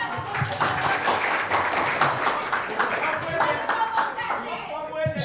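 An audience claps steadily at a televised event, a dense continuous patter of hands lasting throughout, close and fairly loud, with a voice speaking over it.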